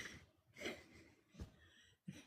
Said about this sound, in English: She makes these little snore sounds.